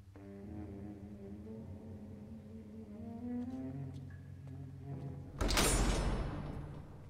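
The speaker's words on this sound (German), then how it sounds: "Tür auf bei 3." A prison cell door in 1954 Alcatraz slides open near the end with a sudden loud metallic grinding rush, following a stretch of low droning tones and soft clicks.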